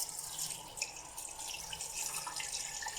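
Water pours steadily into a pot over a leg of lamb with spices and salt, making a quiet, continuous splashing rush with no talk.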